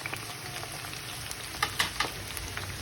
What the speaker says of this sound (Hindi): ये देखिए हाफ भिंडियाँ मैंने फ्राइंग के लिए डाल दी हैं